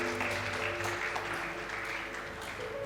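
A church congregation applauding during a worship service, a steady continuous wash of clapping with music or singing tones underneath throughout.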